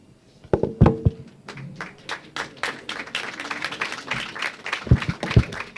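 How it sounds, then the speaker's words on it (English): Audience applause at an International Women's Day celebration in a bank hall, a moderate patter of clapping hands with a few louder, closer claps and thumps standing out. "Please, let's give them a round of applause."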